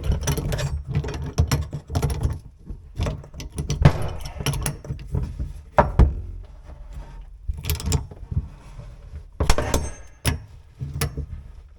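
Wrench tightening a thin brass compression fitting on a shut-off valve under a bathroom sink, irregular metallic clicks, scrapes and clanks in close bursts.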